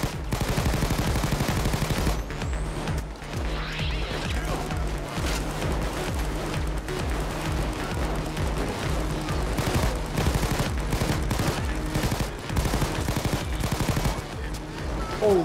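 A turret in the video game Payday 2 fires at players in a sustained, rapid automatic stream for the whole stretch, loud and steady, with other gunfire and game noise mixed in.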